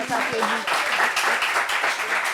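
Applause from an audience, a dense wash of clapping hands that continues steadily, with voices audible among it.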